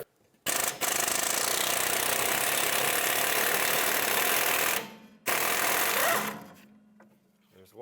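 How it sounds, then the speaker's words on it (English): A tool spins out the bolts holding the rear wheel hub on a 2006-2011 Chevrolet HHR with a 15mm deep socket. It gives a loud, continuous, close whirring buzz that stops briefly and restarts, then fades to a low hum. "with a 15mm deep socket, you need a deep one so you can clear the stud here. You want to take off the 4 bolts that hold this on."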